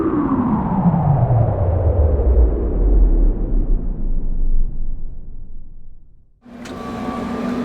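Deep, steady engine rumble from a tractor working a field during wheat planting, a loud continuous drone with low harmonics that slowly falls in pitch, drops out abruptly, then resumes as a quieter, brighter idle.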